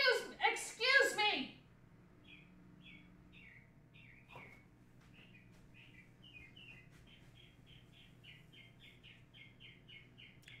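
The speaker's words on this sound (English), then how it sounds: "That bird sounds like it's in the house." A small bird chirps just outside a window, giving short repeated tweets that become a faster, steady series of chirps, heard fairly close and clear after a burst of speech at the start.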